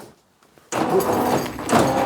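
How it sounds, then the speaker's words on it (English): A near silence breaks into a loud thud of a shed door shutting, followed by a muffled rumble of room noise and faint movement. "I'm even going to shut the door."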